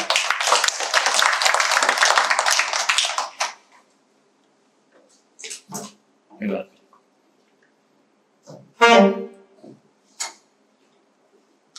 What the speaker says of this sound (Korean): 크게 격려의 박수 부탁드리겠습니다